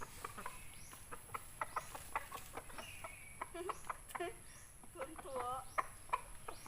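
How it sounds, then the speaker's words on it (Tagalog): Chickens clucking in a large pen, a steady scatter of short clucks and calls close by with rustling and low background noise. "ating pakawalan na ang ating mga manok dito sa malaki nilang kulungan"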